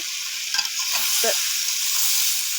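Tomato and potato bhaji frying on a stove, a steady bright sizzle with a few soft stirring knocks in the first half and no talk.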